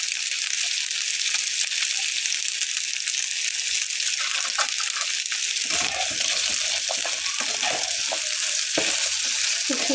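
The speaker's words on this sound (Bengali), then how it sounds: "খুব সুন্দর করে ভেজে নিতে হবে" Taro (kochu) pieces with a pinch of turmeric frying in a pan, giving a dense, loud, continuous sizzle, joined midway by close scraping and stirring noises.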